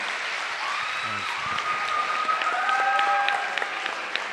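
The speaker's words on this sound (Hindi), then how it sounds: "जिम्सियंस, जोरदार तालियां सर के लिए" Hall audience at a mushaira, an Urdu poetry gathering at Gujranwala Medical College, clapping strongly for a poet, a full dense applause with a few sharper claps rising near the end, and faint voices and tones underneath.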